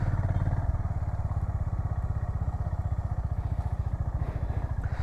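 A Honda H'ness CB350 motorcycle engine on a test ride, a steady, close, low thumping single-cylinder pulse that runs evenly through the whole stretch with no speech.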